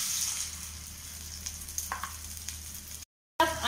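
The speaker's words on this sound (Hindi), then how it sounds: "मैं इसमें एक एक करके सब मशरूम दे दूंगी और अच्छी तरह से फ्राई कर लूंगी" Mushrooms frying in hot oil, a soft steady sizzle with a few light pops and stirring clinks, briefly cut to silence before a louder burst of sizzling.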